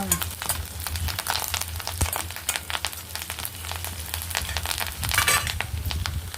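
Curry leaves hit hot oil with onions for a prawn and ridge gourd curry, giving a steady close sizzle with sharp crackling spurts throughout, strongest near the end, with no talking.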